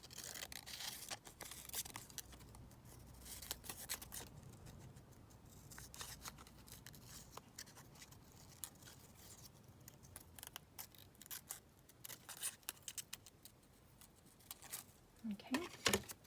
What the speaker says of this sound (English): Just going to cut out another one of those postmarks.